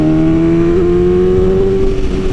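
A BMW S1000RR motorcycle cruising through a turn at low speed and low RPM, its engine a loud, steady close drone with a slight pitch wobble, no talking.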